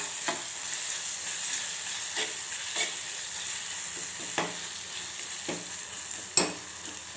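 Grated raw mango fries in oil with a faint, continuous sizzle, broken by several soft scraping stirs and one sharper clink near the end.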